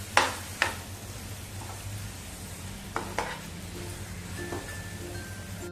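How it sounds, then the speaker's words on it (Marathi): Crumbled paneer sautés in hot ghee, giving a soft, steady sizzle, while a spoon stirs it and scrapes the pan now and then with a few sharp clinks. "पनीर चांगलं परतवून घ्यायचंय तुपावरती आधी।"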